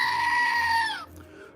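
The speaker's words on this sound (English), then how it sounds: "I don't know what made one of you guys send us a screaming goat" A screaming goat toy figure lets out one loud, sustained electronic goat scream that holds steady for about a second, then cuts off abruptly, leaving faint room noise behind.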